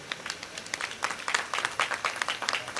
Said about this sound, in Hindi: शाबाश, तालियां बजाएं इस बेटी के लिए।